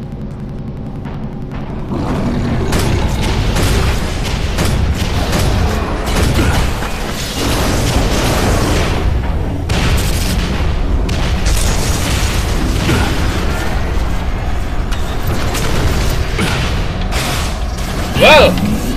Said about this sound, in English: This is a really slow moving elevator.